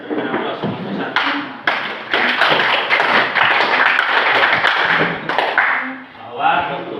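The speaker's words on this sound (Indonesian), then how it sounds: "kita berikan aplaus untuk satu" Audience applause fills an Indonesian Islamic lecture on animal sacrifice (kurban), a dense, steady burst of many hands clapping for several seconds before fading, with a speaking voice at the start and end.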